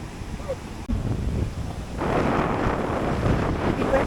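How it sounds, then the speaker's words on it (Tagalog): Strong wind buffets the microphone on a Boracay beach during a storm, a steady loud roar that swells and grows denser partway through, with possible surf underneath. "Grabe, kalakas ang hangin."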